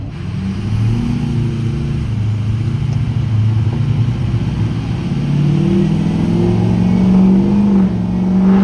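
A heavy 6.0 diesel truck engine with a performance tune lugs at low revs, a loud steady rumble that swells slightly toward the end, with no talking.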